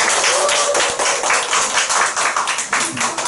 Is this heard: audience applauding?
yes